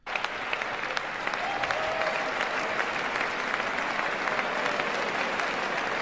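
Sustained applause from an audience at the 2025 presidential inauguration, dense steady clapping from many hands filling the whole span at an even, moderately loud level with no talk over it.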